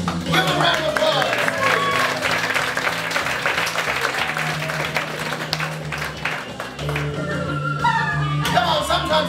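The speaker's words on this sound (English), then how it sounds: "Give a round of applause." An audience applauds a volunteer coming up on stage at an evening show, with sustained dense clapping and light cheering throughout while a voice talks over it.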